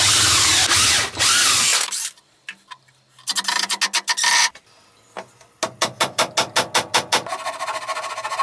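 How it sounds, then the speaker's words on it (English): A power drill bores a larger hole into a wooden block, with a long continuous whine, then a series of short rhythmic bursts as the trigger is pulsed, ending in another sustained run. "to drill a larger hole"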